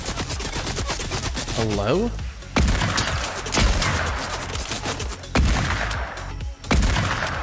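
Gunfire in the Fortnite video game, with repeated sharp shots in bursts, some clustered, mixed with other in-game sounds while a player talks over them.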